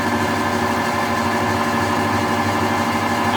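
An old lathe runs in gear, set up for single-point thread cutting, giving off a constant mechanical hum and low drone that holds steady at an even level, close by, with no voices.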